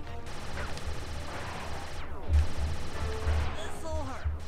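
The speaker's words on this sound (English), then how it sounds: "Getting shot at." Scattered gunshots in the video game Sly Cooper trilogy ring out amid busy game effects and music, with a few louder impacts standing out near the middle and toward the end.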